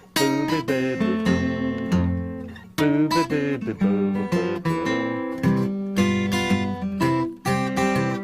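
An acoustic guitar plays a bouncy fingerpicked lick with a thumbed bass line, repeating the phrase in clear, close phrases with short pauses between them.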